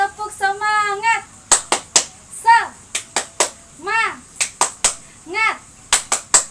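Sharp, evenly spaced hand claps from a Sunday-school clapping game led by a teacher, about a dozen crisp smacks in quick rhythmic bursts, trading off with a child's sung chant between groups of claps.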